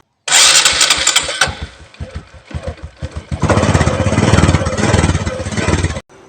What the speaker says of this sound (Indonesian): Suara mesin motor ini masih terdengar cukup halus, walaupun usia mesinnya sudah tidak muda lagi.